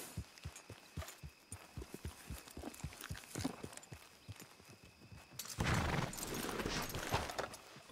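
Hooves from a horse in the video game Red Dead Redemption clop at a steady walking rhythm, close and clear, then give way to a louder rushing burst near the end.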